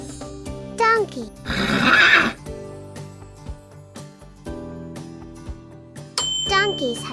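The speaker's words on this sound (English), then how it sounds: "Donkey." A farm donkey brays twice in short, wavering calls, separated by a few seconds, over light music with bell-like tones and a spoken voice.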